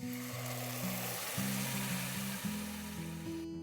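Finely chopped garlic and strained pureed tomatoes sizzle steadily in a pan for pizza sauce, a continuous close frying hiss with low sustained musical tones underneath.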